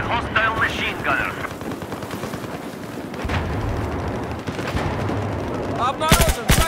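Machine gun fire in the Battlefield 4 game, a dense stream of gunshots with bursts and booms running the whole time, loud and busy, with game voice lines over it.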